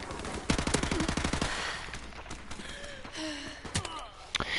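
Rapid G3 rifle fire in the video game Modern Warfare Remastered: a fast, sharp burst of evenly spaced shots for about a second, then quieter game sounds with a few more scattered shots and a faint vocal sigh.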